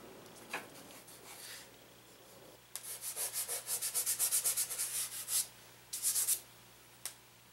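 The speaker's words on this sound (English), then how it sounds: "I'm going through and using my eraser to sort of start to make adjustments to my drawing" An eraser rubbing over a skull drawing on toned paper, making a quick run of close, rhythmic scrubbing strokes and then a shorter burst, dry and fairly soft against a quiet room.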